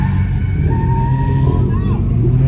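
A Jeep Rubicon 392 with its factory 6.4-liter Hemi engine, fitted with 38-inch tires and drag racing at a track, gives a loud, deep, continuous engine roar lasting a few seconds.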